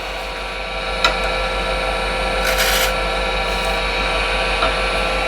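Continuous whirring of a spinning wood lathe with a skew chisel undercutting the wood, a steady close hum marked by a few brief scraping bursts, no talk.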